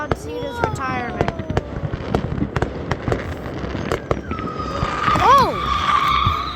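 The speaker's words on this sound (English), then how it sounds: "They did do fireworks for John Cena's retirement" Fireworks burst in a rapid series of sharp cracks and pops, with whistling rockets rising and screeching across the sky, while people talk and exclaim over the loud display.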